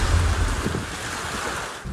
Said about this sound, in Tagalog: Halos matumba na ang mga punong yan sa lakas ng hampas ng hangin sa bayan ng Dilasag sa Aurora